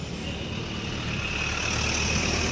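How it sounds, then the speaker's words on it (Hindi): Road traffic rumbles past continuously, with the engines of cars and heavier vehicles forming a dense, steady roar that slowly swells over the whole stretch. "गाड़ी बहुत ज़्यादा चल रहा है इसीलिए सुनाई नहीं दे रहा"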